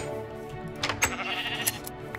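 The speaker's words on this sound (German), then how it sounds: "Das andere Schaf brauche ich mal. Komm her!" Sheep bleating in Minecraft, a couple of short nasal bleats over steady game background music, fairly close and clear.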